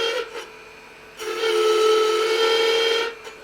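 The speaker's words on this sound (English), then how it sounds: "As you raise the handle, it takes the wood off really fast." Spindle gouge cutting wood on a lathe while turning a honey dipper, a steady tonal cutting whine that swells and holds for about two seconds before fading, with a brief cut at the start.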